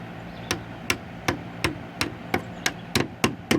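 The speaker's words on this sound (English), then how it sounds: "I'm going to tap it up with my hammer" A hammer taps a wooden plug into a carpenter bee hole in wood: about ten sharp, evenly spaced knocks, close and fairly loud, with no one talking.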